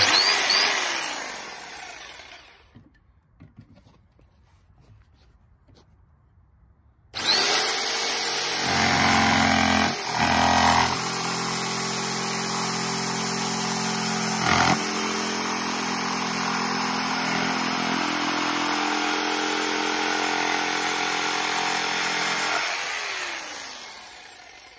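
A DCA AMQ65 electric jigsaw with a wood blade cuts thick plywood at maximum speed, a loud, steady buzzing whine that rises from near silence, holds for about fifteen seconds with small shifts, then winds down.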